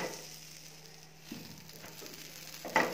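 A cheese corn sandwich toasts in butter on a pan, a quiet steady sizzle with a couple of brief louder crackles as the bread shifts.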